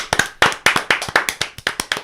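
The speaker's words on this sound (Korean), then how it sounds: "박수 한번 쳐야지." Several people clap together in a small podcast studio, a quick, uneven run of close, sharp hand claps lasting a couple of seconds with no talking over it.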